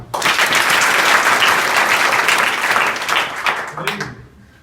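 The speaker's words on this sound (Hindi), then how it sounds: "सबके लिए तालियां।" Students in a college hall in Azamgarh burst into dense, loud applause that holds steady for about four seconds, then tapers off quickly into near quiet.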